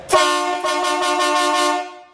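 A dual marine air horn fitted to a Fiat Uno Mille gives one loud, sustained, steady blast of about two seconds, close and alone with no talk.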